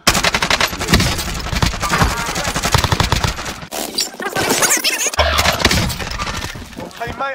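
Rapid automatic gunfire in a Warzone match, with dense strings of shots rattling close and loud, pausing briefly and then resuming, while players talk and shout over the shooting.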